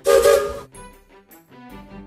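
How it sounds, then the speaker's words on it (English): Brand-new whistle on a restored circus steam locomotive, Casey Jr.: a loud, breathy blast followed by softer, broken whistle tones that trail off. "I received replacement parts, new paint, and even a brand new whistle."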